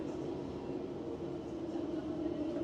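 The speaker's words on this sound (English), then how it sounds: "now I'm gonna take the tram to Loili" Tram ride through Helsinki, a steady low rumble of the tram car rolling along the rails, continuous and fairly quiet.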